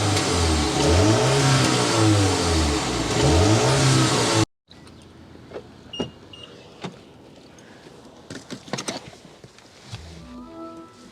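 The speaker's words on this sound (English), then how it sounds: "start it up, so you can hear that exhaust note" A 2025 Mini Countryman S ALL4 engine rises and falls in two loud, close revs, then cuts off to a quiet interior with scattered clicks and light thumps.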